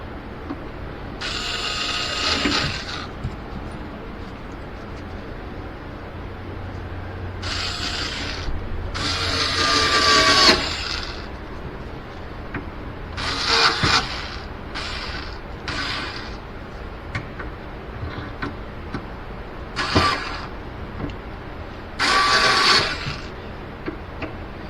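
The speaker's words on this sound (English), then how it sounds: "Just put them in loose and then I'll drive them home." A power driver sinks screws into a teak cockpit locker lid in short whirring bursts separated by pauses, each burst close and fairly loud, with faint handling noises between them.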